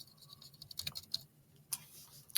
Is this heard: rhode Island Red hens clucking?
no